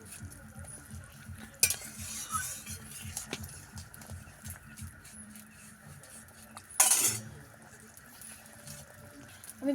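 Fried pond-caught rohu fish pieces and lentil dumplings go into a simmering potato curry, with a metal spoon scraping and stirring against the pot, soft sizzling beneath, and two sharp clattering knocks.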